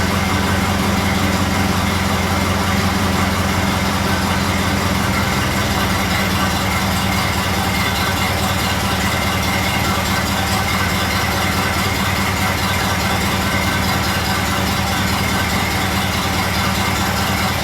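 A Model A Ford engine idling while it warms up, a loud, steady, low mechanical rumble that runs unbroken and close throughout.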